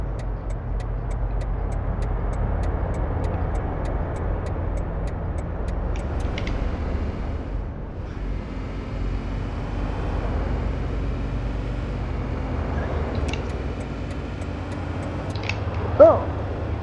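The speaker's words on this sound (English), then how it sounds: "this car revs high on the highway" A 2014 Volkswagen Golf GTI engine in the City Car Driving simulator drones at high revs on the highway, a steady, loud, continuous rumble with a brief bump near the end.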